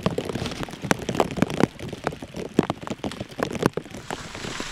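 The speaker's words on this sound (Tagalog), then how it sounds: "Bumuhos ang malakas na ulan, pero tuloy ang pag-ani namin ng dahon ng cinnamon." Heavy rain pours down on a cinnamon farm during the leaf harvest, a constant crackling patter of drops striking leaves and surfaces with sharper close splats scattered through, moderately loud and steady with no talk.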